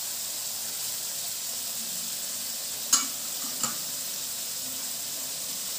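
Prawns sautéing with curry leaves in a pan give a steady, bright sizzle throughout, with two brief clinks of a spoon stirring partway through.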